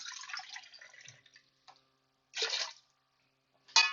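Water is poured into a cooking pot for a seafood potato chowder in short splashing bursts, a longer pour followed by a brief final splash, with quiet pauses between and no talking.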